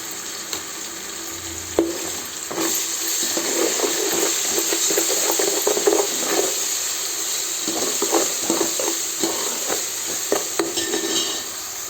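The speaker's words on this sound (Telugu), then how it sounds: "అల్లం పచ్చివాసన పోయేలోపు వేయించుకొని" Ginger-garlic paste and green chillies fry in hot oil, sizzling steadily, while a spoon stirs and scrapes the pan with soft intermittent clinks.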